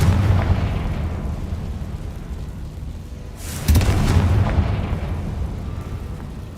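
Bombarda spell explosions in Hogwarts Legacy: a deep rumbling blast early, then a sharper, louder burst with a crackling tail later, over a steady low game background.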